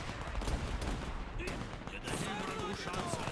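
Troops firing in the video game Men of War II, with dense bursts of rifle and machine-gun fire crackling at mid distance, overlapping and continuous through the moment.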